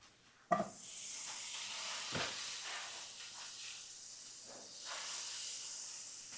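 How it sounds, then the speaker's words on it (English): Butter hits a hot pan with a sharp clink and then a steady, close sizzle and hiss that swells and fades slightly as it melts, with no talk. "Add some butter to my pan over here."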